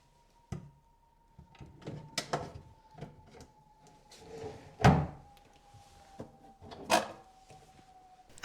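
Wooden nightstand drawers slid back into their tracks, a run of separate knocks and sliding scrapes with two sharper thuds, close by and with no talk.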